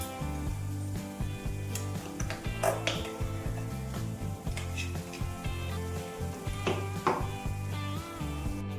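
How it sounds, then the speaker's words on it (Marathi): Ground dal sautéing in hot spiced oil in a pan, a soft steady sizzle with occasional clinks and scrapes of a utensil against the vessel, close and fairly quiet, no voices. "आपण जी डाळ वाटून घेतली ती पण लगेच त्याच्यामध्ये ॲड करायची आणि ती पण छान अशी परतून घ्यायची आपल्याला"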